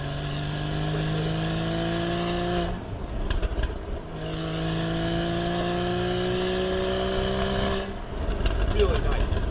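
A 2015 Porsche Boxster 981 flat-six revs hard at full throttle through two rising gear pulls with a brief shift dip between, loud and close from inside the car on a winding road.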